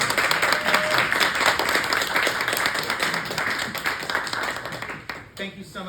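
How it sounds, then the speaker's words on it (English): An evening audience gives chess author Lauren a round of applause, a dense steady clatter of many hands that thins and fades out near the end, with a few voices beneath. "Let's give her another round of applause"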